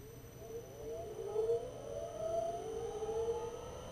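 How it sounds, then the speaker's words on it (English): An electric motor and flywheel driven by an Omron 3G3JX-AE004 inverter spin up, a faint rising whine climbing steadily in pitch over a low hum, with no voices. "the motor and flywheel accelerate quicker and come up to speed faster"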